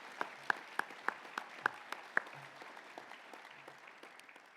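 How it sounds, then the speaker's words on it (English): Sparse handclaps from a small audience at a morning welcome session, a quick run of distinct claps that thins out and fades into a quiet room, fairly faint overall. "So a round of applause for Tommy and his staff for pulling this together"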